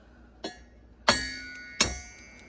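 Eggs cracked for a homemade pumpkin pie filling, heard as three sharp, close taps spaced a little over half a second apart, the last two louder with brief ringing tails, no talking.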